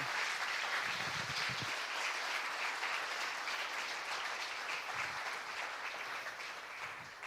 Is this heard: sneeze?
no